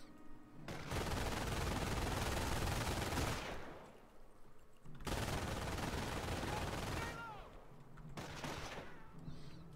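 Machine gun fire in the World War II strategy game Company of Heroes, with long, dense bursts of rapid gunfire in two loud stretches separated by a quieter gap, followed by a shorter, fainter burst.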